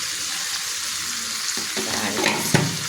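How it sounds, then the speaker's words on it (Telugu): Eggplant pieces fry in oil with a spice tempering, giving a close, continuous sizzle with occasional scraping stirs of a spoon against the pan. "కొంచెం ఆయిల్ వేసి తాలింపు వేసా వంకాయలు వేసా"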